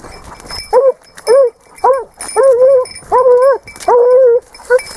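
A Spanish hound trailing wild boar gives a series of loud, close, drawn-out whimpering yelps, about seven separate cries in a steady rhythm with short gaps between them.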